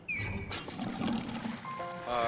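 Water pouring in Valiant Hearts: The Great War, a short liquid trickle and splash lasting about two seconds, at moderate level among game effects, with a brief tonal game chime near the end.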